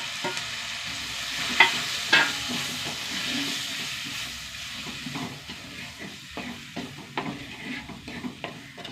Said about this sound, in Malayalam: പൊടികളൊന്ന് മൂത്ത് വരട്ടെ.